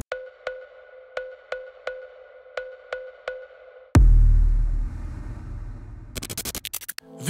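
Eight evenly spaced tones from a bell sample ring out, then a heavy boom and a dense burst of sound follow, ending in rapid stuttering hits.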